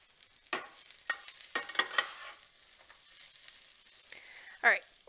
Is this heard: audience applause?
no